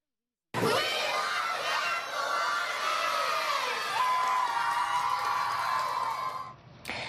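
Children at the Kiwanis Sunshine Point Camp in Harrow cheer and scream together, a loud burst of shrill young voices that starts abruptly and stays high and excited before breaking off.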